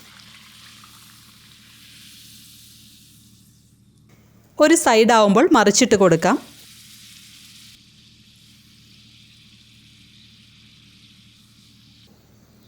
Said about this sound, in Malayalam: പരത്തിയെടുത്ത പൂരി ചൂടായി കിടക്കുന്ന എണ്ണയിലേക്കിട്ട് വറുത്തെടുക്കാം